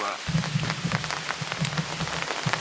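Hail and heavy rain pelt down outdoors at a fishing spot, a dense constant patter with sharper irregular hits from hailstones striking nearby surfaces, steady and fairly loud with no speech.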